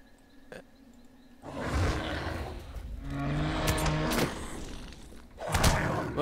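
A Beorning character in Lord of the Rings Online unleashes its ferocious roar skill, a loud, broad growling blast that swells after a quiet start and holds for several seconds, with a second burst near the end amid game combat thuds.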